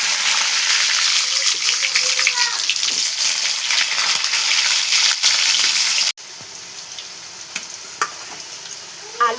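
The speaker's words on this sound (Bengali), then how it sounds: "কড়াতে পরিমাণ মতো তেল দিয়ে দিয়েছি। আর দিচ্ছি একটা তেজপাতা, গোটা জিরা, তারপরে আলুগুলো দিয়ে দিচ্ছি।" Potatoes frying in oil with bay leaf and whole cumin in a kadai, a loud continuous hiss and sizzle with stirring scrapes, dropping abruptly to a quieter sizzle partway through.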